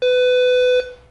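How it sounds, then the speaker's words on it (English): Horn on a Travel Buggy AeroLux carbon fiber folding powerchair, a single loud electronic beep held for under a second, then fading quickly. "Relatively loud horn considering what they sound like in the market."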